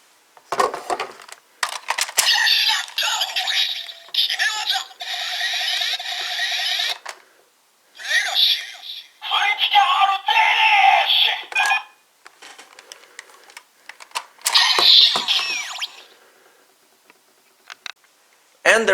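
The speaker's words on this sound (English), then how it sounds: "And finally, we can test out what sound it makes with the Gashakan Key Slasher." A DX Taddle Legacy Gashat toy fires its electronic sounds through a Gashakan Key Slasher toy in several loud bursts of synthesized tones, beeps and announcer-style voice, separated by short pauses.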